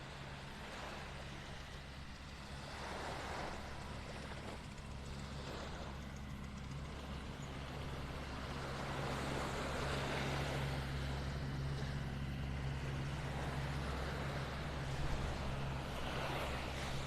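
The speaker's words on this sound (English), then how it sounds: "That tractor's coming up here now" Tractor driving along a beach in North Naples, Florida, a steady low engine rumble growing gradually louder as it approaches, mixed with wind and surf noise.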